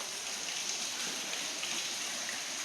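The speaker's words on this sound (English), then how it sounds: "It's freaking raining, man." Steady rain pours outside a historic inn in Mobile, Alabama at night, a dense, even wash of drops spattering on surfaces with no pauses and no voices.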